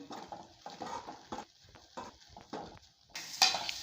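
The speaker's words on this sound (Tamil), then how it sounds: "ஒரு முப்பது செகண்டு கிளறியாச்சு" Vermicelli tossed with chilli powder and garam masala in a kadai makes repeated scraping stir strokes at a steady rhythm, close and fairly quiet, ending with a brighter metallic clatter.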